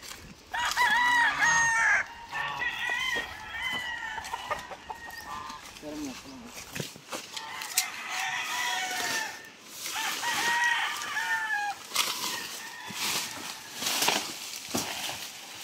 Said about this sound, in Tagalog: nandito nga tayo sa gansaan. Sa mga nangingitlog na gansa.